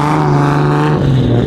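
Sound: cars starting up at car show

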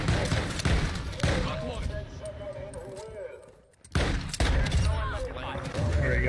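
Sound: gunfire in a shooter video game

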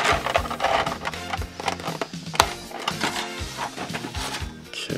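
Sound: undoing a plastic part of toy figure packaging

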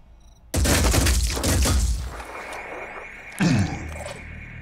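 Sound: gunfire from shooting an enemy in video game Phoenix Point

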